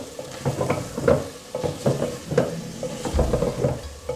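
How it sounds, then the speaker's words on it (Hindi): Mutton and potatoes sizzle in a pot while a spoon stirs them in repeated scraping strokes, a close, rhythmic frying sound with no talk. "अब आलूओं के साथ हम इसकी करेंगे भुनाई।"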